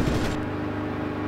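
Rear gunners in IL-2 Sturmovik pour sustained machine-gun fire at a fighter plane, a dense and loud continuous rattle over a steady engine roar that eases slightly after the opening burst.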